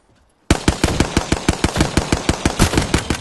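Rapid automatic gunfire from the Apex Legends video game bursts in after a moment of near silence, a loud, steady string of close shots at an even rhythm that holds to the end.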